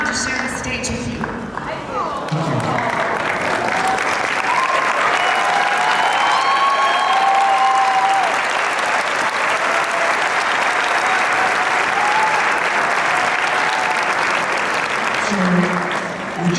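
Sustained applause from a seated crowd at a college spring commencement ceremony, swelling to a steady wash of clapping that fades near the end, with a voice speaking briefly at the start.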